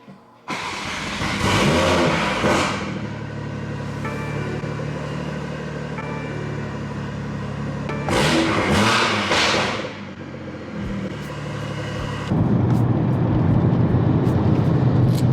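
A BMW M340i starts up and then revs and accelerates repeatedly. The engine is loud and close, with rising and falling surges and a rougher, louder stretch near the end.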